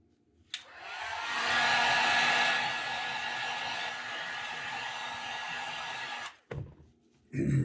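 A heat gun blows steadily for about six seconds while heat-setting paint on a custom-painted fishing lure, a loud, even airy roar that starts abruptly and cuts off, followed by a couple of light knocks.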